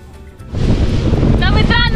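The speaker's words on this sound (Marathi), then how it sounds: "कारण बोट अशी सुसाटीने सुटली की 2 मिनिटासाठी वाटलं की मी उडूनच डेस्टिनेशन पर्यंत पोहोचते" A speedboat tears fast across open sea off Tarkarli, Malvan, its loud engine roar and wind buffeting rising suddenly and holding steady, with spray and water rushing close by.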